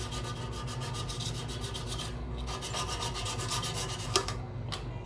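A rice cooker pot is rubbed with 1000-grit sandpaper, a close, continuous rasping scrub in quick back-and-forth strokes with one small knock near the end.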